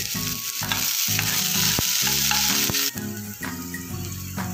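Loud, steady sizzling and crackling of cumin seeds frying in hot oil, with scraping stirs and clinks of a utensil against the pan.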